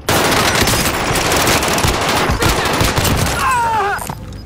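Small-caliber gunfire in a video game bursts in rapid, dense automatic volleys that stay loud and close for several seconds before easing off near the end.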